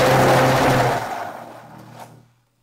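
A blender mixes mashed potatoes with added milk for a creamy potato dish, a loud whirring motor that runs steadily for about a second, then fades and winds down to silence within two and a half seconds.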